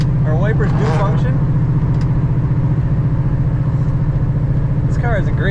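A 1969 Ford Mustang Mach 1 tribute with a four-speed idles loud and close, a steady low rhythmic engine burble running throughout with some talk over it.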